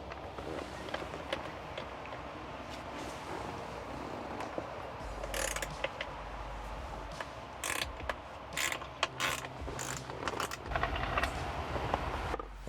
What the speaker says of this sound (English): we're going to need to get under here to these 10mm bolts right here, and we're just going to take these two loose